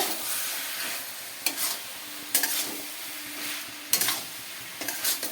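Fig curry (dumurer ghonto) with freshly added garam masala powder gets stirred in a pan on a gas stove, giving a steady soft sizzle broken by a few distinct scraping strokes of the spoon, close and alone.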